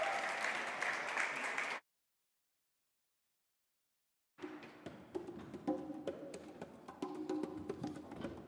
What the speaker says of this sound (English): can we give a big round of applause to Lufefe and our percussionist